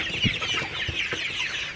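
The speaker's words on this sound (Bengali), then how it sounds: "মুরগিকে পানি দিলাম আপনারা দেখতে পাচ্ছেন মুরগিগুলো পানি খেয়েছে" A flock of Sonali hybrid chickens, 54 days old, clucks and murmurs steadily at close range while drinking water, a continuous busy chatter of soft calls.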